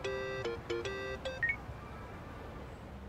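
Phone call tones from the video game Yakuza: Like a Dragon play as a few short electronic beeps in quick bursts, then a brief higher tone, leaving a quiet background.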